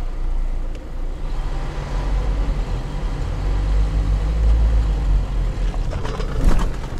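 A Lada Niva 4x4 with the center differential locked drives off test rollers, its engine giving a loud, steady low rumble that swells midway, followed by a few clattering knocks near the end.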